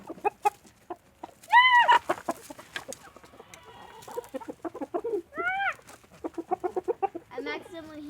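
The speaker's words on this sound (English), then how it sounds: "I'm going to stand here and wait till chickens come out there." Garden chickens cluck and squawk near the listener, with a couple of loud rising calls and many short clucks in a busy irregular rhythm, as if gathering for food.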